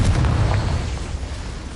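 A spell blast from the Hogwarts Legacy video game, a deep booming explosion that hits at once and rumbles as it fades over under two seconds, loud and close.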